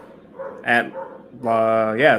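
A nearby dog lets out a couple of short barks, then a longer drawn-out howling whine that rises in pitch at the end.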